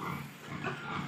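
Grown farm pigs grunting and snuffling at close range in a pen, a steady low rumble of overlapping grunts through the whole second.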